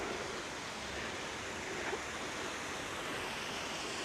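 Water trickling and splashing down small cascades in a winter park, a steady broad wash of flow heard up close with no voices.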